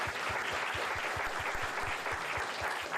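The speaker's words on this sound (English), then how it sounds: "Can we get like a roaring, round of applause for our panel." Sustained applause from an audience after a tech panel discussion at a developer and CTO meetup, dense steady clapping throughout with no speech.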